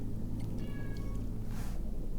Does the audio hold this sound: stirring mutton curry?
no